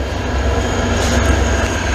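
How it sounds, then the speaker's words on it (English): A VIA Rail train rolls past close by, a steady, loud broadband rumble of rail cars with a constant low drone, continuous and alone without talk. "Long ass train."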